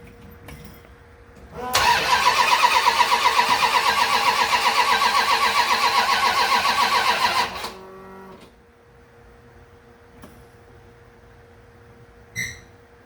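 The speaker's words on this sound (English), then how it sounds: "it's a solid 6. It's spinning over just fine." A 1979 Dodge D100 with a six-cylinder engine and a no-spark fault cranks steadily for about six seconds without catching, loud and close, then stops, leaving quiet room tone and a faint click near the end.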